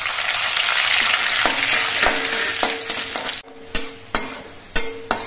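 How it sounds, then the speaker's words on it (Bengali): Cashew nuts fry in hot ghee in a wok with a loud, dense sizzle. Sharp clinks from a spoon scraping the pan punctuate it, and these become sparse, distinct taps once the sizzle drops away. "এবার ঘিটা গরম হয়ে যাওয়ার পর এর মধ্যে কাজুগুলো দিয়ে ভেজে নিচ্ছি।"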